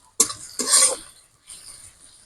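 Onions being sautéed in a pan for duck egg biryani: a few close scraping stirs with a soft sizzle, two strokes in quick succession followed by a fainter one.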